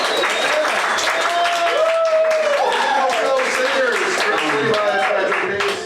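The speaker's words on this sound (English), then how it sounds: "Hey, can we give a quick applause to our barber?" A live panel-show audience applauds the barber: sustained, steady clapping from a crowd, with whoops and voices rising over it throughout.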